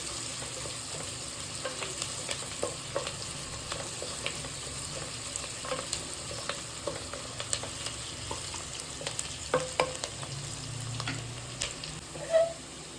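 Onions sautéing in a pan for mushroom biryani give a low, steady sizzle, with occasional stirring clinks and scrapes through the middle and a slightly louder knock near the end, and no voices.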